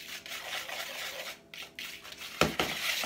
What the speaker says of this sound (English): rather than sieving it in a sieve, I just use a whisk, give it a little stir around.